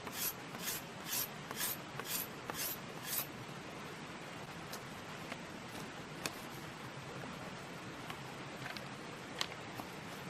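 A knife whittles a wooden tree branch into an arrow shaft, with a few distinct scraping strokes at first and then quieter, irregular shaving and scratching sounds up close.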